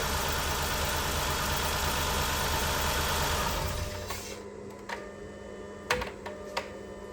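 A Chrysler Town & Country minivan engine with a misfire runs with a steady, rough mechanical drone for several seconds, then drops away, leaving faint clicks and a few sharp knocks close by, no voices.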